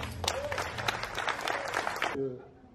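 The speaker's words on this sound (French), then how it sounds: "Donc une grande pensée pour Robert, on peut l'applaudir très fort." A crowd at a motorcycle gathering in Isola applauds loudly in tribute to a remembered cyclist. The clapping is brisk and dense for about two seconds, then stops abruptly as a voice takes over.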